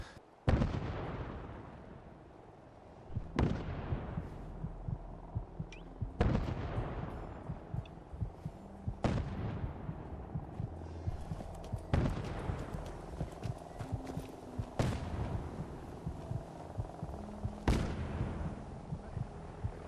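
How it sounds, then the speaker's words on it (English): A string of heavy, booming explosions in Fallout 4 lands every few seconds over a dense, rumbling game soundscape, loud and close, with crackling and clattering between hits. "I'm seeing some explosions up here."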